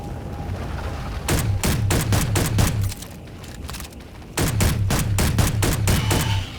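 Weapon fire in Space Engineers: two long bursts of rapid, evenly spaced shots with a low thumping undertone, loud and near, separated by a brief lull with humming background.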